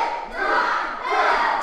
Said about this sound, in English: You hear the crowd counting along.